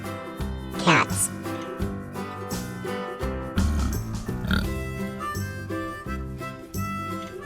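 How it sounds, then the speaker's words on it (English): A farm pig oinks and grunts in short bursts against continuous cheerful background music, with the animal sounds fairly close and clear. "Pigs."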